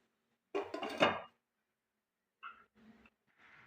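A lid clatters onto a pot of pitha batter mixture cooking on a low flame, a short, close metallic clank, followed by a few faint, brief rattles.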